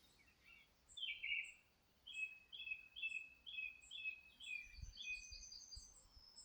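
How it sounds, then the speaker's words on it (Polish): Small birds sing outdoors in short, bright repeated phrases and scattered chirps. The calls come from a moderate distance against quiet background, with a few low thumps near the end. "Ptaszki śpiewają."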